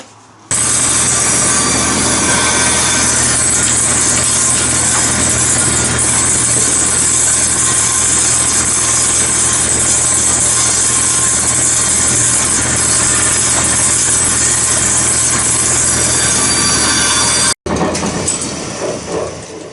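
A power saw cuts a half-inch-deep groove down the center of a wooden boat part, a loud continuous whine running steadily for about seventeen seconds before briefly stopping and starting again.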